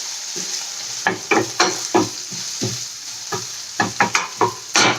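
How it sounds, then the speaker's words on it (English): Onions sizzle in a frying pan under a steady hiss, broken by a series of sharp scraping stirs that come in quick bursts, close and clear. "you can see my onions sizzling away in the pan there. Just going to give them a little stir."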